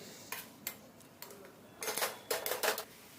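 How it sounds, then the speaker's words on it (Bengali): Carrots cooking down with sugar in a pan, stirred with a utensil that gives several sharp clinks and scrapes against the metal, some in quick clusters, close and fairly loud with no talking. "এবার হচ্ছে এটাকে নাড়তে নাড়তে শুকিয়ে নেব চিনিটাকে।"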